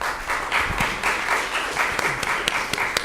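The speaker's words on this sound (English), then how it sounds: "This is a clapping crowd." Crowd applause fills a meeting room at a commission session after a motion carries, steady dense clapping with a few sharper individual claps standing out, sustained throughout without talk.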